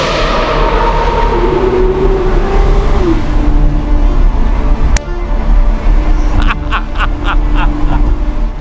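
A Lamborghini Revuelto's loud engine revs and winds up with a deep rumble through a new exhaust, echoing inside a tunnel, followed by a few sharp crackling pops from the exhaust.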